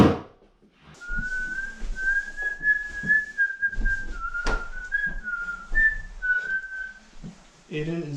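A child whistles a wavering, breathy tune close by for several seconds, with soft background noise and a brief voice at the end.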